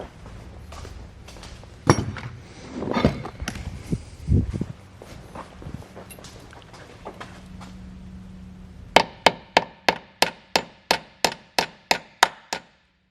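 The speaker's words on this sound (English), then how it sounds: "just gonna tap this old dipstick tube out" A series of about a dozen sharp, evenly spaced metallic taps from a metal hammer striking a Mustang's old metal dipstick tube, ringing out clearly after a stretch of shuffling and clunking handling noise.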